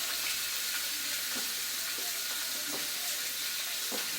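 Salmon cakes and meatballs searing in a pan with a cold sear method, a steady broadband sizzle and frying hiss with small pops, close and continuous.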